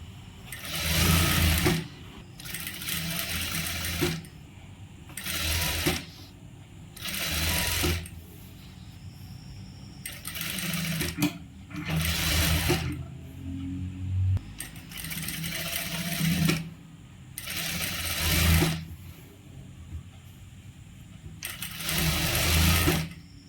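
A tailor's sewing machine stitches the sleeve seam of a churidar in repeated bursts of running, each a few seconds long, separated by short pauses, close and steady with no talking.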